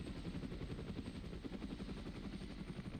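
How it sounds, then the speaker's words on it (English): A helicopter in the video game Arma drones continuously with a dense, rumbling rotor wash that holds steady throughout, with no voices. "Do we hit the chopper?"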